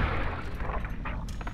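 A single gunshot rings out in the video game Fallout New Vegas, a short sharp crack heard over steady game background ambience, with no talk.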